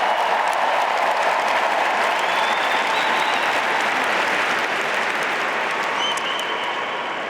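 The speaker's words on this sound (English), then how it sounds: "how about another round of applause for this terrific women's final?" Sustained applause from a large tennis crowd at the 2024 US Open women's final, loud and continuous, with faint cheers or whistles mixed in, fading slightly toward the end.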